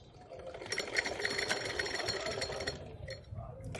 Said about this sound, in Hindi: ऐसे कच्ची स्टिचिंग करेंगे